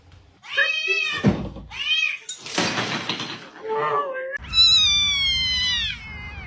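A cat meows close up several times in a row, with drawn-out, wavering cries separated by short pauses, the last one long and loud.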